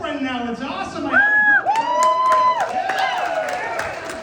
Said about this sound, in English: Some applause and some relieved sighs from the women in the room.